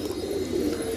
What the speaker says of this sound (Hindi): ये देखो लाल पंजे का कबूतर।